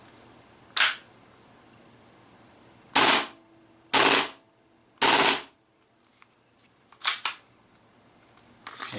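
An Action Army AAP-01 airsoft pistol fires on full auto in several short, sharp, loud bursts separated by quiet gaps, ending with a pair of quicker bursts. No one talks.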